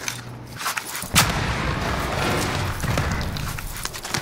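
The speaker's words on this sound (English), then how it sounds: "They're shooting him." Gunfire in a video game firefight, a steady rumbling stream of distant shots and booms with one sharper crack near the start, moderately loud and continuous.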